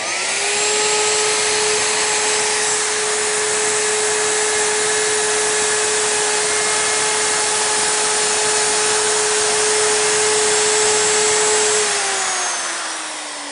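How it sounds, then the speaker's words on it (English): A plunge router runs continuously and loud as it cuts flutes along a fence, a steady high whine with a slight pitch drop as it winds down at the end, no talking. "put the router against the fence, start here, initiate the cut, come down as we travel along"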